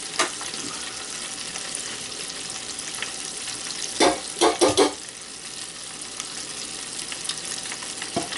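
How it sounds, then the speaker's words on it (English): Eight coconut shrimp fry in a deep fryer, giving a steady close sizzle and crackle with a brief burst of louder bubbling midway, no voices. "let me use the fryer"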